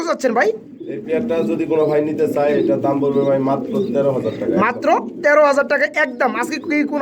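Large pigeons in a loft coo in repeated, rolling low calls close by, overlapping with a person talking.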